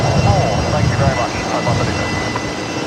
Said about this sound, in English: Link Airways Saab there, just departing off of runway 19 and left.